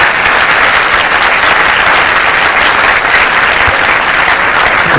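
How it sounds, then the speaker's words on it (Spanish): A crowd at a university rally applauds loudly and continuously, a dense, even roar of clapping with no pauses and no voices over it. "le mando otra vez nuestro aplauso"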